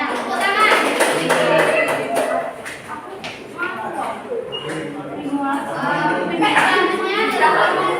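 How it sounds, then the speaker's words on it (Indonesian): Classroom applause during a primary school social studies lesson, a short burst of hand clapping from students that rises and falls under a teacher's voice and children talking. "Ya, benar. Tepuk tangan."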